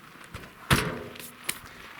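A drawer or door on an aluminum truck camper fitted to a Ford F-350 shuts with one solid, close thud, with a lighter knock shortly after and a quiet background around them.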